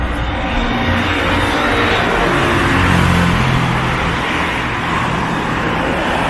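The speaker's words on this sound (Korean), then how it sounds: "이쪽이 내리막길이라서 차들이 더 신나게 슝슝 지나간대요" Cars speed down a nearby downhill road beside a large urban street in Cheongnyangni, Seoul, making a steady, loud roar of passing traffic and tyre noise with no gaps.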